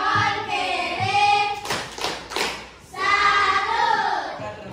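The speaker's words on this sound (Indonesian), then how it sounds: "Berikan dia tepuk salut." A class of children chants the rhythmic 'tepuk salut' routine in unison, with a brief burst of hand claps and taps in the middle, set in a school lesson.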